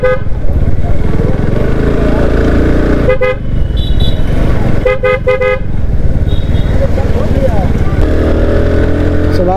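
A loud motorcycle engine drones close up on a ride toward a hilltop temple in Bihar, with sharp repeated horn toots cutting through the road noise.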